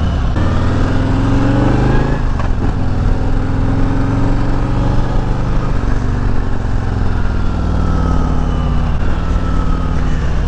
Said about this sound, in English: let's fire the bike up. And let's go for a ride.